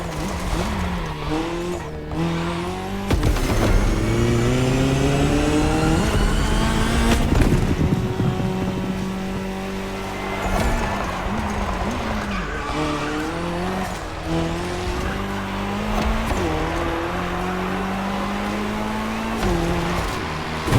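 Racing cars in the video game Motorfest, a Puma and a KTM, with engines howling and rising through gears in repeated sweeping pitch climbs, loud and continuous with tire squeal, no talk.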